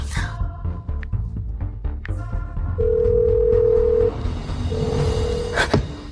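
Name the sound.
telephone dialing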